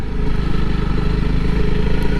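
A 2021 Honda CRF 300L Rally motorcycle riding through a coastal day-use park, its engine droning loud and close with a steady low pulsing note throughout.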